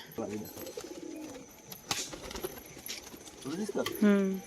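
Pigeons coo softly close by, with a few short calls and a final clearer coo, among light rustling and background noise.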